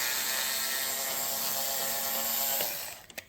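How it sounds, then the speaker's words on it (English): A ratchet works on the seat bolts of a 2018 Kawasaki H2 SX SE motorcycle, giving a steady, close whirring that holds for over two seconds, fades, then ends with a couple of sharp clicks. "Just undo these 4 bolts here."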